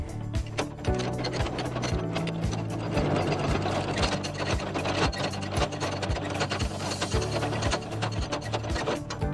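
Crank handle on a trailer jack turned to lower a trailer onto the hitch ball, giving a steady, evenly paced mechanical ratcheting and grinding that runs close and unbroken.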